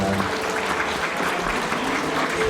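Wedding guests break into dense, steady applause that fills the hall, many hands clapping together at close range for the whole stretch.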